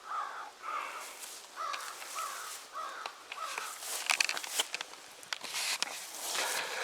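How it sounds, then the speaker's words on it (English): Crows caw repeatedly in a food forest, a regular series of harsh calls over the first half, then scattered bird chirps, rustles and footsteps in dense vegetation, fairly close and moderately loud. "you often hear the birds"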